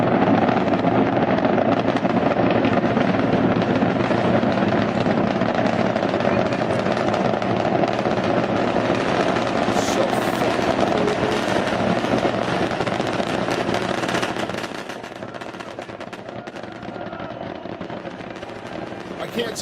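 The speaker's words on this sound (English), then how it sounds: "rocket launch" Loud, continuous roar of a rocket launch, steady broadband rumble with crackling texture that holds for most of the span before dropping slightly in level near the end.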